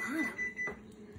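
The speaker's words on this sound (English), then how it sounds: "You guys just heard that beeping noise. It was my oven." Kitchen oven beeping during peanut butter cookie baking from a mix: a short electronic tone sounds near the start, then fades into background noise.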